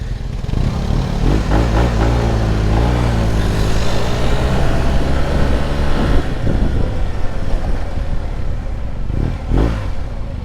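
A 2024 Yamaha TMAX 560 scooter pulls hard under steady acceleration, its engine drone loud and close with wind rush, running continuously without pause.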